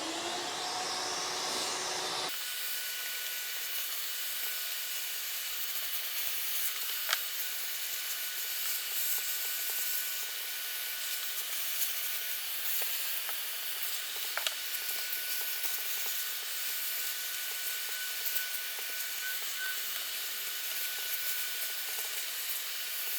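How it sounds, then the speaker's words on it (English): A shop vac cleaning a Stihl chainsaw gives a steady, high-pitched whooshing roar that keeps going without a break, with occasional small clicks and knocks from the nozzle moving over the saw. "back to the shop vac."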